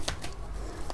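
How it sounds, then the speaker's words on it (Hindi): Tarot cards being shuffled by hand, with a few short papery riffles and flicks close by, separated by quiet pauses. "अच्छे से शफल करें कार्ड्स"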